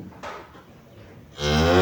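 A calf at the Jumabozor livestock market in Toyloq district, Samarqand region, gives a single loud, drawn-out moo close by, after a brief quieter bleat-like start and background murmur.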